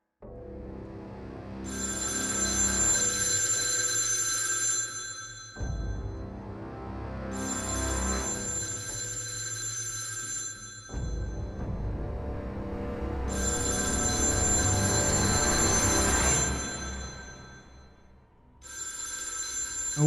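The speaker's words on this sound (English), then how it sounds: "We heard the phone in the kitchen downstairs begin to ring." A telephone rings in a kitchen downstairs of a cabin in the woods, a series of long, repeated bell bursts separated by short gaps, fairly loud and steady over a low background.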